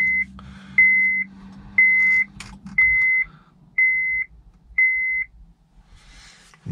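Seatbelt warning chime in a 2011 Honda Civic LXL with a 140 hp engine, six evenly spaced electronic beeps about once a second, clear and close over a low idling hum inside the cabin.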